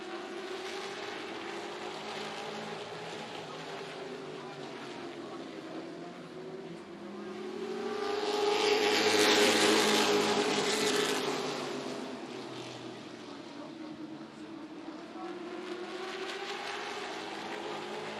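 Stock cars in a NASCAR weekly series race at Hickory Motor Speedway, including a Chevrolet, roar past as a steady engine drone swells to a loud peak mid-clip and then eases back to a continuous pack rumble.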